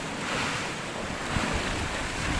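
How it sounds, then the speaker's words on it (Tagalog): Large ocean waves surge and wash continuously at a beach, a broad, loud roar of surf mixed with wind buffeting the microphone, with no voices over it. "Ano, kalaki-laki ng mga alon."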